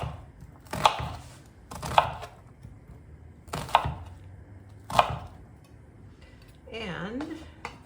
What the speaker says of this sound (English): do some diced onion because it doesn't have to be fancy